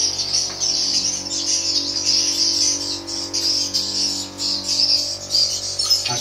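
Swiftlets calling at a small swiftlet house tower, a dense, continuous high chirping and twittering from many birds close by, steady throughout over a faint low hum.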